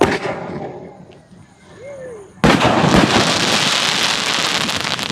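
A Rock Dog 2-in-1 sky shot firework, a Sivakasi Diwali cracker, goes off with a sudden loud burst, then a dense, sustained crackling roar that fills the rest of the moment after a quieter lead-in.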